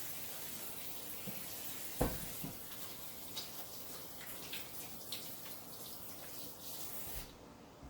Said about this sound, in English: I like to wash my hands a lot.